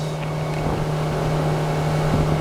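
A 2007 Suzuki DF140 outboard on a 2002 Sea Pro 180 DC motorboat runs at about 3,000 RPM during a sea trial, a steady, loud drone with a strong low hum, constant throughout with wind buffeting the microphone.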